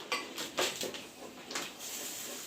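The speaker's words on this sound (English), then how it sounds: "Let's give this spaghetti a quick stir." A utensil stirs spaghetti in a metal pot in a home kitchen. It makes a few soft clinks and scraping swishes nearby, with no talking.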